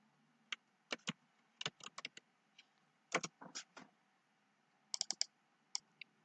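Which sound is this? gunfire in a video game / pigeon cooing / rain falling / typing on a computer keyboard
typing on a computer keyboard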